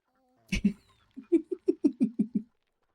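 Ducks trailing the Jubilation merchant in EverQuest II's Summer Jubilation event give a brief double squawk, then a quick, evenly spaced run of about eight nasal quacks, moderately loud and close, with no talking.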